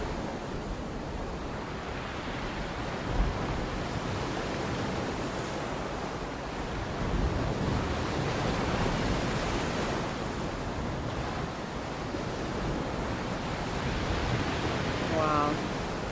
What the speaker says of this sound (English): just 5 seconds, to listen to the waves.